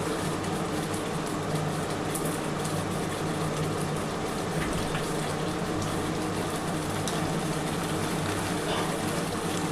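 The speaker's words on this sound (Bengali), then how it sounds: "তার জন্য আর এক বাটি জল দিচ্ছি" A bowl of water poured into a pot of katla fish curry with potatoes and pointed gourd gives a steady, unbroken gushing wash that lasts throughout at an even level.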